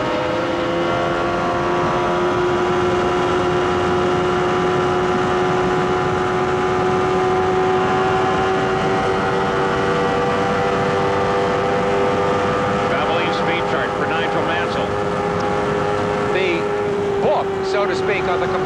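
An IndyCar racing through turn 2 at Indianapolis during the 1993 Indianapolis 500 holds a loud, sustained high-pitched engine whine at full throttle that drifts slightly in pitch, with faint crowd and track noise beneath it.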